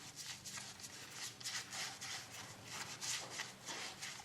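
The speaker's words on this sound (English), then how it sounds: "I'm going to have to go ahead and put sealer on it" A natural-edge oak piece is coated with sealer, giving a steady, close scrubbing and rubbing sound of repeated strokes across the wood, with no voices.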